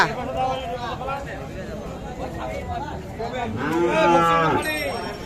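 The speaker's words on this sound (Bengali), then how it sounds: "দেখছেন এগুলো সবগুলো কিন্তু শাহিওয়াল জাতের বাছুর" Sahiwal calves at a busy cattle market low and moo repeatedly, the loudest moo coming near the end, over a steady crowd hubbub and nearby voices.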